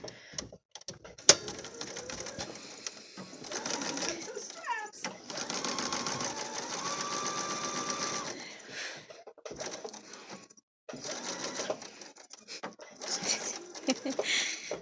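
A sewing machine stitches seams on a fabric face mask in starts and stops, a close whirring hum broken by pauses, with someone talking over parts of it.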